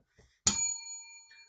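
A single bell is struck once, close and bright, and its clear metallic tone rings out and slowly fades, with a faint rustle before it.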